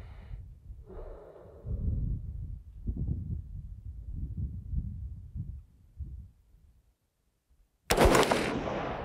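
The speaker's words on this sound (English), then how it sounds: "you wanna shoot one more?" A single loud, sharp rifle shot fired while sighting in a rifle cracks out near the end, following a stretch of low, muffled handling noise and a brief moment of silence.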